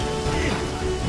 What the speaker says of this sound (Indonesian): Ditambah cuaca yang turun hujan membuat dia semakin menantang.